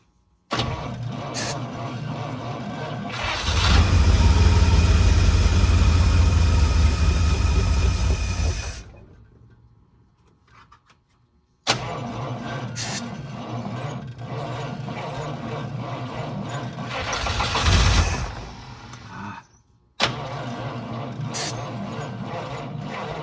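A 1952 Cadillac barn-find car engine cranks and catches, running roughly for several seconds, then stalls into quiet before cranking again and running unevenly with surging bursts, close and loud with no talk over it.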